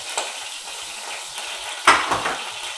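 Meat involtini browning in a pan, a soft continuous sizzle with a scrape or stir of a utensil against the pan near the end, close and moderately loud.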